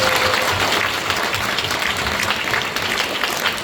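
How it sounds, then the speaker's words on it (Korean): An audience applauds warmly and steadily throughout a Buddhist Dharma lecture in Korea, dense clapping filling the hall with no break. "큰 박수 부탁드립니다."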